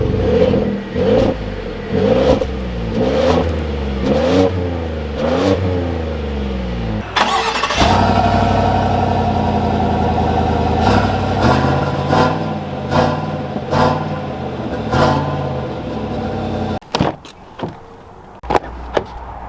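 A 2021 Ford F-150 and a 2021 Chevy 1500 truck, heard as a loud, close engine start followed by revving and a steady idle, with sharp clicks and thuds near the end.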